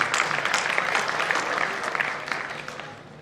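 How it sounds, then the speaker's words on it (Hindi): An audience at a Hindi comic poetry gathering claps in a steady dense patter, loud at first and then thinning slightly toward the end, with no talk over it. "एक बार ताली बजाने में प्रारंभ करता हूँ"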